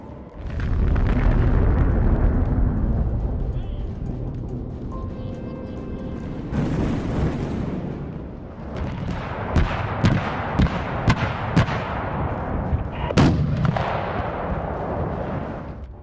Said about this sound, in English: This is the montage of airshow pyrotechnics to blow in the new year.